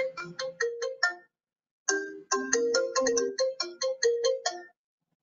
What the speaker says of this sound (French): Il y a quelqu'un qui essaie de nous appeler.